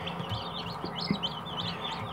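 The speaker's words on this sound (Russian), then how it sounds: "Вот, вывелось 4 вот таких цыпленка под курочкой" Faint, high little peeps from four newly hatched Cochin chicks under a hen repeat in quick, irregular chirps over a low background murmur, soft and close.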